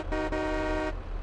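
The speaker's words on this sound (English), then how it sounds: "That's a very loud air horn as well." A single loud, sustained air horn blast in Farming Simulator 22 lasting about a second, with a short break near the start.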